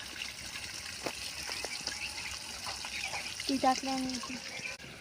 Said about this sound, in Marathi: इकडून पाणी येते बघा सगळं झिरपून पाणी येते